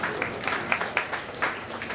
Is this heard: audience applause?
yes